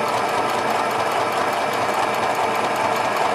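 A sewing machine stitches fabric at a steady, moderate pace, a close, continuous rapid mechanical chatter running without pause.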